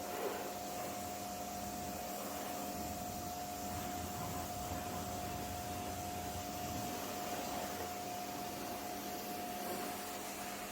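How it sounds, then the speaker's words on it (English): A power washer sprays a steady, loud hiss of water rinsing snow foam shampoo off a car, continuous and even with no pauses. "good power washer to remove all the foam"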